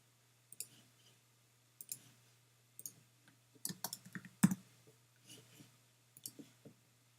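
A computer mouse gives soft, close, isolated clicks, spaced irregularly at about a dozen taps over a quiet background hum.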